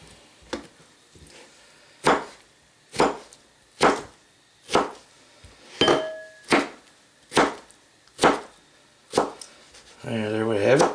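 A knife chops half a tomato on a cutting board, about ten sharp, evenly spaced thwacks close up, followed by a brief burst of voice at the end.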